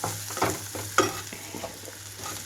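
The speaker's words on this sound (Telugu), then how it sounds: "ఇప్పుడు ఇందులోకి మష్రూమ్స్ని కూడా వేసేసుకుంటున్నాను" Mushrooms go into a pan of softened, frying tomato masala, giving a soft sizzle with a few scraping stirs and light clicks, fairly quiet and close.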